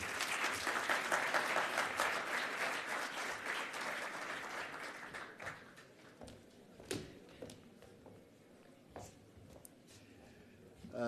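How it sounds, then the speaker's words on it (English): Delegates at the Global African Hydrogen Summit 2025 give a full round of applause that holds strong for several seconds, then thins out into scattered claps and small taps in a quieter room. "Massive round of applause."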